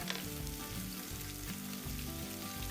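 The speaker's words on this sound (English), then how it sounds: "You're actually frying an egg on the sidewalk?" Steady crackling sizzle of an egg frying on a heatwave-baked stone sidewalk, continuous and close, with no voices.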